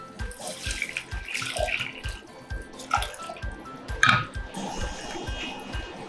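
Water runs from a tap into a pan over fried chili bean paste as the base for a Chinese hot and sour noodle soup, a steady close splashing flow with no talk.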